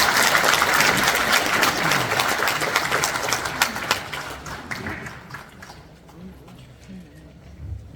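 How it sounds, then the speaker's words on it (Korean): Applause from an audience at a ceremony honoring a former prime minister, a dense roar of clapping that tapers off over several seconds into scattered claps and quiet room noise. "다시 한번 이수성 전 총리님께 박수 부탁드리겠습니다"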